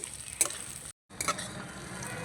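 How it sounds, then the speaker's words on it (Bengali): Carrot strips stir-frying in a pan for egg fried rice, a steady low sizzle with a couple of scraping stirs and a brief cut to silence midway. "গাজরের টুকরোগুলো দিয়ে একটু নাড়াচাড়া করে নেব"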